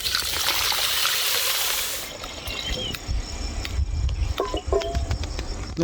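Water poured into a pot while making a vegetarian soup of mudavattukaal root, a steady splashing trickle that runs on over a few seconds amid faint background noise, with no speech.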